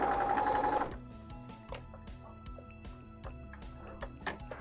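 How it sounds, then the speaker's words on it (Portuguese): A sewing machine stitches along the sides of a Christmas placemat, a quick rhythmic mechanical chatter running steadily at close range after a louder burst at the start. "vou passar uma costurinha nas duas laterais"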